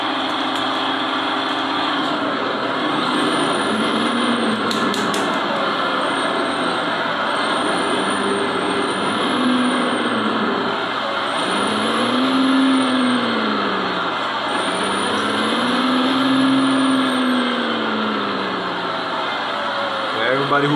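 Idling truck engine from a Mack Anthem in American Truck Simulator, a loud steady diesel drone with rising and falling rumbles, heard on its own throughout.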